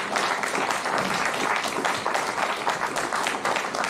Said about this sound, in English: Can everyone give a clap to Gerard?